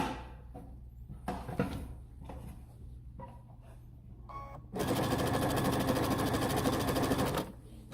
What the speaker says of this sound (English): Then I'm going to simply close up my pillow. I'm going to sew all the way around.